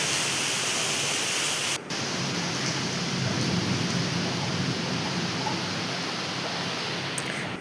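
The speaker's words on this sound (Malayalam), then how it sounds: "എന്താ നിൽക്കാത്ത മഴയാട്ടോ, ഭയങ്കര മഴയാണ്" Heavy, unbroken rain pours down as a dense steady hiss, fairly faint and distant, with a brief drop near the start and no voices over it.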